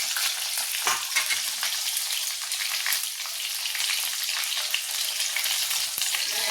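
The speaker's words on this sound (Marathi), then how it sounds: "आता हे फ्राय करून घेते." Masala for a bombil (Bombay duck) and brinjal dish frying in a pan, a loud bright sizzle close up with occasional stirring scrapes, continuous and unbroken, with no speech.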